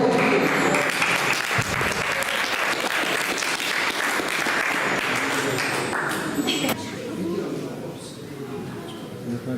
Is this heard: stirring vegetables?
no